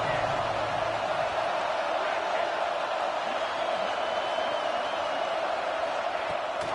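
A stadium crowd in an NCAA football video game roars for the defense on third down, a dense sustained wash of cheering that stays level throughout.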